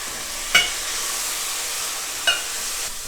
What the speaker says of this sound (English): Let's go in with our quote, port, unquote.